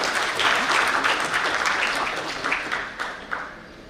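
Warm audience applause at a national management convention welcoming a session chair, many hands clapping loudly at first, then gradually thinning to a few scattered last claps.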